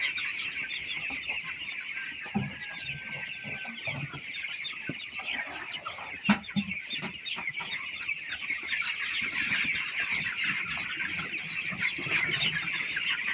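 Chickens cluck and chatter steadily in a poultry pen, a dense flock of overlapping calls with occasional louder squawks, close and continuous with no talking.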